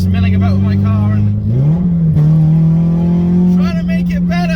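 A car with a broken exhaust drives at speed, its engine a loud, steady droning rumble that shifts pitch briefly as it changes gear, with a person talking over the noise throughout.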